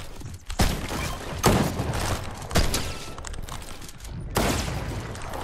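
Shotgun blasts in the video game Fortnite, four or five loud, sharp booms spaced roughly a second apart, each trailing off into a dense rattle of game effects.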